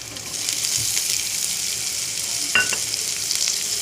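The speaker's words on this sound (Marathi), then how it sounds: "आता टोमॅटो टाकून घेऊ आपण आधी" Green chillies and tomatoes sauté in a pan for paneer bhurji, giving a steady close sizzle of frying with a brief stir or clatter near the middle, no voices.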